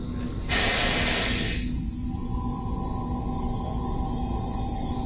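An airbrush blasts a loud, steady hiss of spray as it is cleaned out, starting abruptly after a brief quieter moment and continuing without pause.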